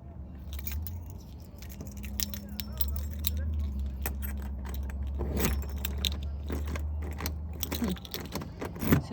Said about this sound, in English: Let's see if either of these keys work for this.